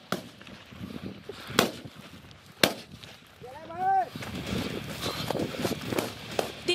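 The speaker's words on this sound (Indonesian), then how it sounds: "nampak terjadi baku tembak antara tim gabungan TNI Polri dengan KKB" Amateur footage of a gunfire exchange in Papua has a few sharp, distant cracks standing apart over outdoor noise and muffled voices, with a brief whistle-like tone in between.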